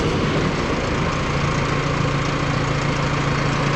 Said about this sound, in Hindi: पीटीओ गियर लगा ना पहले